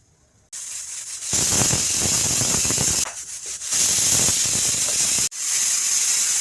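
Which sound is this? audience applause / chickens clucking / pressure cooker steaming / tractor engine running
pressure cooker steaming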